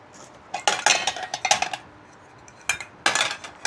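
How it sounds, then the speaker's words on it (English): Metal pots and lids of a Trangia camping stove set clink and clatter in several quick bursts, a pause, then more clanking as pieces of cookware are handled close by. "I'm going to open up the Trangia stove system"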